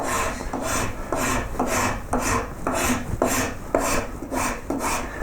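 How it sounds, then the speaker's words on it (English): A fine rasp works over a wooden koi carp carving in steady back-and-forth strokes, about ten rhythmic rasping passes, close and clear with no talk. "put a rasp on, a fine rasp, and work all those forms together"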